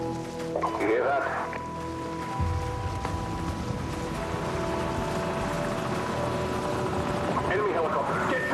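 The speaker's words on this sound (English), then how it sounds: "Enemy helicopter, get down!" Rotor thumping swells gradually from a distance, a low rhythmic chop with a whining engine, growing louder and closer over several seconds.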